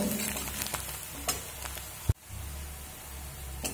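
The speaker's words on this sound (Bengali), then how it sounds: "দেখুন পেঁয়াজটা ভাজা হয়ে গেছে" Onions fry in oil with sugar and turmeric, a faint, steady sizzle broken by a few soft stirring clicks and one sharp knock partway through.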